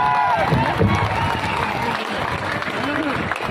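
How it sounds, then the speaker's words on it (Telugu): A crowd at a public rally for Amit Shah in Metpally applauds and cheers steadily, a dense wash of clapping under a loud amplified voice talking over it. "అందరూ కూడా తన చప్పట్లతో ఆయన స్వాగతం పలకాల్సిందిగా కోరుతా ఉన్నా"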